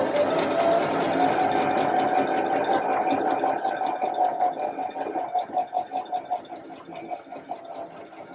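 Sewing machine running steadily while stitching around the hem of a reversible dress, a continuous mechanical whir that breaks into a quicker pulsing rhythm toward the end, close and fairly loud with no voices.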